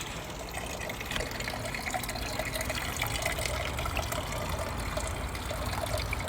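Outdoor water fountain on a backyard patio trickling and splashing steadily and close by, a continuous soft wash of falling water with no voices over it.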